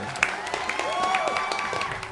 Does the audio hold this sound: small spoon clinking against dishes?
no